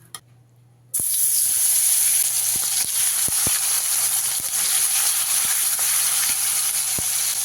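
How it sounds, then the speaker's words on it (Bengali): Koi fish are laid into medium-hot oil for a Bengali tel koi dish, bursting into a loud, steady sizzle after a quiet second, with occasional sharp pops and crackles throughout. "এবারে একে একে মাছগুলো দিয়ে ভেজে নেব"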